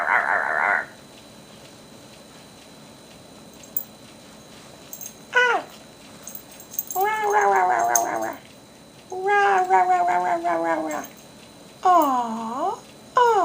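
A cat meows repeatedly in distinct, drawn-out calls with pauses between them, close and fairly loud, with no talking in between.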